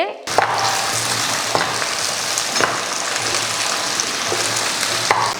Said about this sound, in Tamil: சின்ன வெங்காயம் வந்து நல்லா செவந்து வர வரையும் வணக்கி விட்டுக்கலாம்